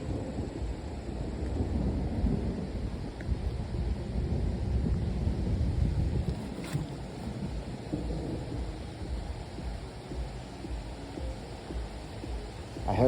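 Strong wind blowing steadily outdoors, a loud broadband rush and buffeting against the microphone that swells and eases without pause across the whole stretch.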